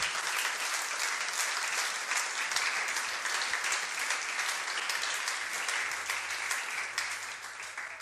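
A church congregation applauds during a sermon, a dense and continuous wash of many hands clapping that holds steady throughout.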